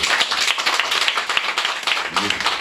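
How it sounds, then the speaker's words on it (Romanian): Audience applause at a bookshop event, a dense steady patter of many hands clapping throughout, with a brief voice rising near the end. "Vă rog să le aplaudați."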